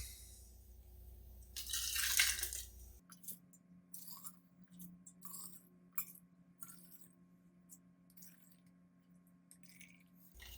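Homemade chicken stock is ladled through a canning funnel into canning jars: a brief burst of pouring liquid, then quiet drips and small clinks over a low steady hum.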